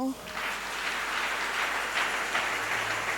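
A church congregation applauds together, a broad and steady clatter of many hands that holds for a few seconds in a large room, with faint crowd voices mixed under the clapping.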